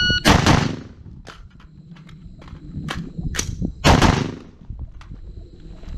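Rifle shots ring out at a shooting range, several loud cracks at irregular intervals with sharp echoing decay and some fainter distant reports between them, close and without talk.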